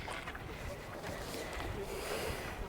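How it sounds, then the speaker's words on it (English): Wind gusts across the microphone at Wai-O-Tapu geothermal park, a steady low rushing buffet near and moderately loud, alone throughout. "the wind is blowing all of the steam this direction"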